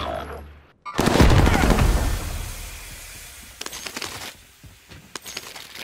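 Loud machine gun fire from a first-person shooter video game, a heavy sustained burst followed by quieter scattered shots and clinks.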